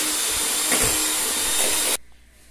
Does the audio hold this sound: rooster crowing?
no